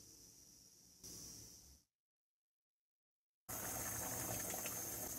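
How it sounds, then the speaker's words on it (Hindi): Water drained from partly boiled rice for biryani pours and gushes steadily, stops for a moment of silence, then resumes louder and rushing. "अब हम इसका पानी निकाल लेंगे।"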